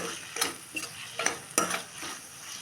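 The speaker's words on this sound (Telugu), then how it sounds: "ఇప్పుడు బాగా మిక్స్ చేసేసుకోండి" A spoon stirring bottle gourd milk curry in a pan just after salt goes in, with several sharp scraping strokes against the pan over a soft background sizzle.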